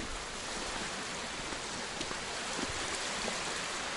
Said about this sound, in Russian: Вот так штормит уже второй день